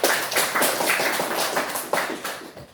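A classroom audience claps in a brisk, scattered burst of applause after a teaching presentation, moderately loud and sustained throughout.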